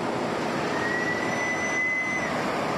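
German passenger train carriages pulling out toward Bulgaria's Black Sea coast on the fast service to Burgas: a loud continuous rumble with a thin high wheel squeal rising and holding, no speech.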